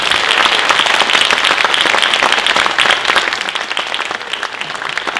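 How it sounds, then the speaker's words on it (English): Audience applause at a music fellowship recital, a dense steady clapping from a full room that fills the whole clip at close range, easing slightly toward the end with no voices over it. "Let's give them a round of applause."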